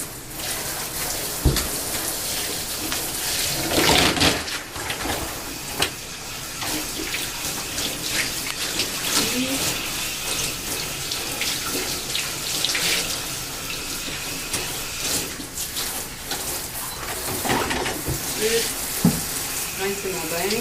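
Water runs continuously from a tap while a bath bench is rinsed during assisted bathing care, a steady splashing wash with occasional louder splatters and thuds, close and fairly loud throughout.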